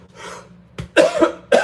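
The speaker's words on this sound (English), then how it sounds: "I want to cough so much." A person coughs close to the microphone: a soft breath first, then two or three harsh, loud coughs in quick succession.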